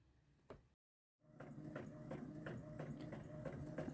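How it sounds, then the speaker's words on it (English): Epson 2720 inkjet printer printing stickers, a faint mechanical whir and rhythmic clacking of the print head moving back and forth, starting after a brief silence and continuing steadily. "I am using the Epson 2720 to print these out."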